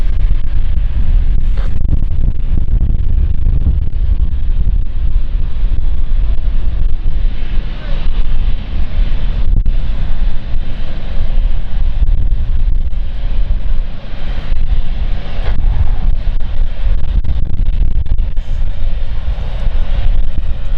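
An airliner taxiing to its stand at London City Airport, a steady loud low rumble of engines with wind buffeting the microphone throughout, no clear peaks, heard close by outdoors.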